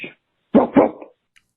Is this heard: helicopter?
no